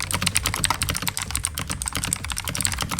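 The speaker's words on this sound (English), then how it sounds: "This is the daWg Highkey 373, and if you ignore the gaming part, this is actually a decent mechanical keyboard" Rapid, steady typing on a daWg Highkey 373 mechanical gaming keyboard, dense clacking keystrokes close up with no talk.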